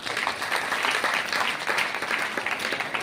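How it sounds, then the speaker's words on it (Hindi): An audience claps loudly and continuously throughout, a dense wash of applause filling a hall at a motivational seminar, with no pauses or speech standing out. "जोरदार तालियां अपने लिए।"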